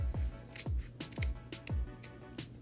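Scissors snip through a fabric jelly roll rope strip in a steady series of about five crisp cuts, roughly half a second apart, close and fairly quiet with no talk.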